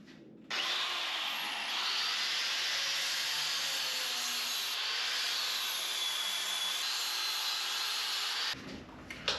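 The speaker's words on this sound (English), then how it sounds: "it's time to grind down these welds" Welds on metal trailer ramps are ground down with one loud, unbroken abrasive whine that runs nearly the whole time, then cuts off near the end with a couple of small knocks.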